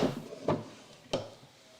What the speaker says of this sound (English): It's a well-used drawer.